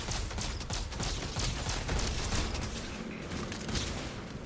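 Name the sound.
gunfire in the video game Starfield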